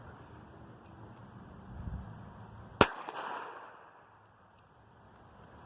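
A handgun is test-fired after its gun and magazine were cleaned and oiled, giving a single sharp close shot that rings out briefly over faint outdoor wind noise.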